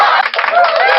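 A brief burst of hand clapping from a television game show audience, loud and close for about a second before cutting off, with a voice heard alongside.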